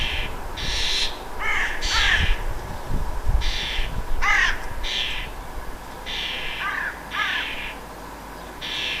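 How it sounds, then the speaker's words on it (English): Several crows caw repeatedly in harsh bursts, fairly close, over a constant hiss of outdoor background noise. "Despite the threatening sound of crows, the adult goes back to feeding baby."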